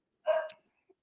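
A single short dog bark, fairly close and clear, followed by a tiny faint yip or whimper in otherwise quiet surroundings.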